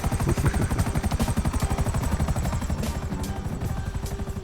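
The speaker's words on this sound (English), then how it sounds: "Now in GTA Online, the Hunter, attack chopper" A Hunter attack helicopter in GTA Online thumps with rapid, steady rotor chop, loud and close throughout, with no voices over it.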